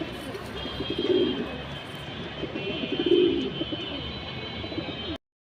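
Deep blue Jabra Pankhi pigeons, a pair, coo in low rolling bursts, two louder swells standing out amid a continuous murmur, with a faint engine-like drone behind before an abrupt cut to silence.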